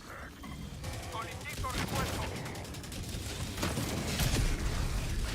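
Rapid bursts of gunfire in the video game Helldivers 2, dense overlapping shots and crackling impacts that build in intensity, with some talk mixed in.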